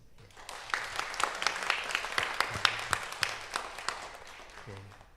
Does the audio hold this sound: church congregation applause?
yes